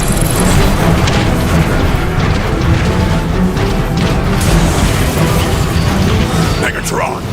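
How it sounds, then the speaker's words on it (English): Artillery strike in Transformers: Fall of Cybertron, heavy booming explosions and crashing debris rumbling continuously and loudly throughout, with a dense low-end roar that eases slightly near the end. "How about calling in an artillery strike?"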